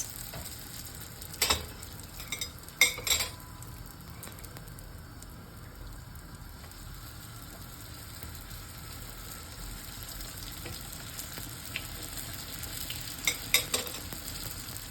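Baursak dough frying in hot oil, a steady low sizzle and bubbling that runs throughout, broken by a few brief clinks or stirs near the start and end.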